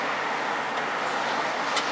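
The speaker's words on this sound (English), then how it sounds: "Thank God the traffic eased up." Steady road traffic noise rolls past from inside a moving car, a broad, even hiss of tires and engines with no voices over it.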